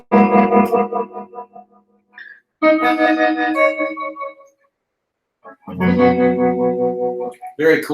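An electric guitar played through a tremolo effect with reverb rings out in sustained chords, pulsing in volume, across three loud phrases separated by brief pauses.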